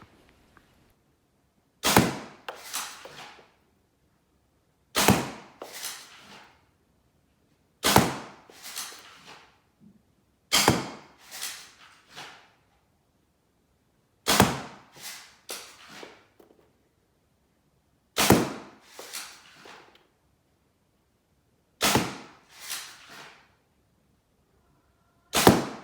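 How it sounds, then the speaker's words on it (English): Black Worker Gen 2 foam darts shot from a Swift blaster, seven sharp, close pops spaced a few seconds apart, each followed by a brief rattle and then silence. "This is firing the black Worker Gen 2 out of the Swift."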